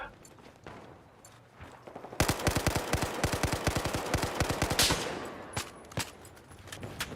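Rapid automatic gunfire in the shooter Battlefield 4, a burst of evenly spaced shots lasting nearly three seconds over a noisy game background, with scattered single pops before and after.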